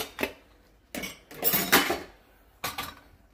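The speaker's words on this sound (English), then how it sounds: "this whole rack down, or again raise it up to accommodate larger dishes" The rack of a Bosch Series 3 dishwasher is shifted in several separate bursts, each a clattering rattle of metal and dishes, close and moderately loud, with brief pauses between.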